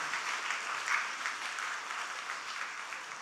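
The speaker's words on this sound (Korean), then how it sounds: "다 서로 박수 쳐주세요." A seminar audience in a church, on the first day of a biblical counseling seminar, applauds one another with steady, dense clapping that stays fairly quiet and even throughout, with no voices on top.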